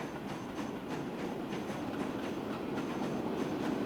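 Transport Fever 2 train running along the line, an even rumbling roll with soft periodic wheel clatter, steady and unbroken for the whole stretch.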